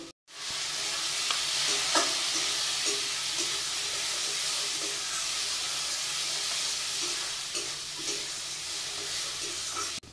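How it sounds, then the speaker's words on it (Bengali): Ground mustard masala fries and is stirred in a pan with okra, potatoes, salt and turmeric, a loud steady close sizzle with faint scraping strokes throughout. "ভালো করে মশলাটা নেড়ে নেব।"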